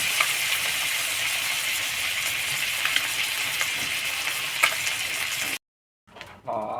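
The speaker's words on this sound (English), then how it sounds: "I'm cooking up some beef and eggs for breakfast" Beef and eggs frying in a pan for breakfast, a loud, steady close sizzle with faint crackles that cuts out abruptly near the end, then briefly returns.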